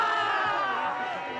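Spectators cheer and shout at a Natural Selection snowboard qualifier in Revelstoke, a steady, loud wash of crowd noise through the whole brief moment with no distinct voices standing out.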